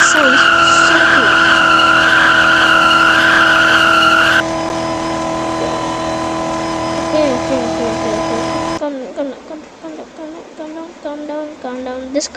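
A Corvette in the Driving Empire video game roars loud and steady, then its tires squeal in repeated sharp skids as it changes speed, with a voice talking over parts of it.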